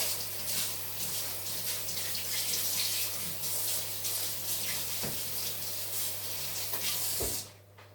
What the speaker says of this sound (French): je vais juste rincer mes fouets pour pouvoir monter mes blancs en neige